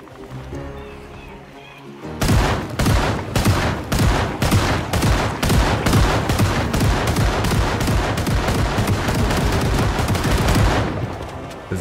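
Rapid bursts of gunfire ring out in the zombie survival game Project Zomboid, a loud, dense string of shots starting abruptly after a quieter opening and continuing almost without pause, close and sharp.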